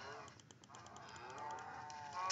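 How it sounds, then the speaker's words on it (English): Cows in the Minecraft video game, near a beach, give a drawn-out moo at moderate volume over a faint clicky background, with no speech. "We spawn next to a gang of cows."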